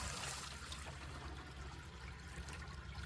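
Water flows steadily and without a break at an outdoor water collection spot in Canada, a continuous trickling, pouring stream with a low rumbling bed, fairly close and unchanging throughout.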